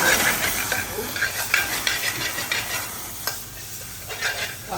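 Garlic paste frying in a pan for a restaurant-style chicken balti, a dense steady sizzle and hiss with small crackling bursts and occasional stirring, close and continuous.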